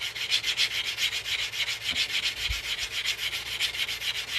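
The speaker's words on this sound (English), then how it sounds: "what I'm doing here is I'm smoothing out this cut edge because we're about to start stretching this ring" The cut edge of a quarter coin ring is smoothed by hand, giving a steady, evenly paced rasping rub that repeats in quick regular strokes, close up, with no speech.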